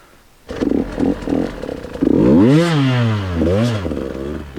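A KTM 150 XCW TPI two-stroke enduro motorcycle engine runs loud and close, its pitch sagging and bogging as it nearly stalls, then picking up again in uneven revs.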